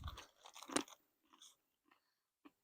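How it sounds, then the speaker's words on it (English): Close, crisp crunching from chewing dried papaya out of an MRE ration, a dense burst of bites early on followed by a few fainter, sparse crunches and a last isolated one. "Some of the dry papaya is a little crunchy"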